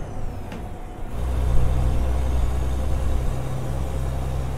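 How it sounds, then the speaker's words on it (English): A Ford LTL 9000 truck's Detroit diesel engine drones with a deep, steady rumble, swelling louder after a moment and holding as the vehicle cruises along. "truck sounds so good, yo, it's a Detroit"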